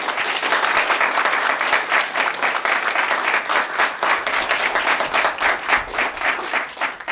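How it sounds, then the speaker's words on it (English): Audience applause fills a student challenges competition hall, a dense, steady clapping that stays loud and continuous for about seven seconds with no talking over it. "Generous round of applause."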